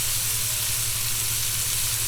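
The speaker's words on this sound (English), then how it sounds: "as it flips over, the garlic will cook" Shrimp and garlic sizzle steadily in a hot frying pan, a continuous bright hiss with a low hum beneath and no talking.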